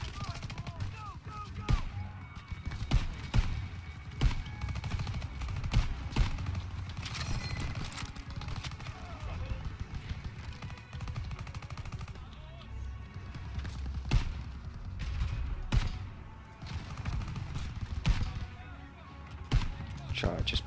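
Machine gun fire from a barn in the Call of Duty WW2 video game, dense rapid bursts of shots near and far over a battle din, with voices talking throughout.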